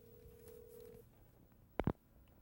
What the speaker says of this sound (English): And I'm going to call into my office and see what happens here.